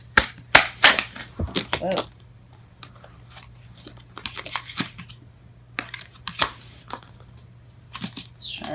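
A deck of tarot cards bursts out mid-shuffle, giving a quick, loud flurry of papery slaps and clatters up close, followed by scattered lighter taps as the cards settle, with a brief startled exclamation and some talking.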